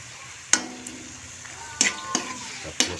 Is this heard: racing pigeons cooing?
no